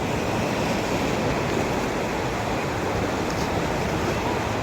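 Steady roar of sea waves at a beach resort in Naic, Cavite, a continuous broadband wash with wind buffeting the microphone, close and loud without pause.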